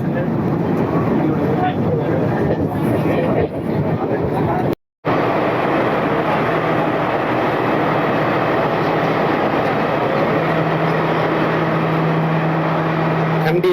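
A train rumbles loudly and continuously at a station, with a steady mechanical roar, a brief cut, and a murmur of voices underneath.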